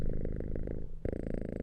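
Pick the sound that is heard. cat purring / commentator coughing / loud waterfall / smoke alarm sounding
cat purring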